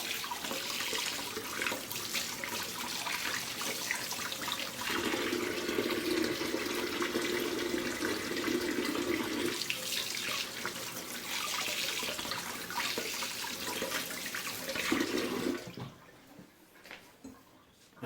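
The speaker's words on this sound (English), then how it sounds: "now I'm gonna wash my hand nicely" Tap water runs steadily at a sink as hands are washed under the stream during egg cooking, a continuous close splashing hiss that swells and shifts in tone, then cuts off abruptly near the end.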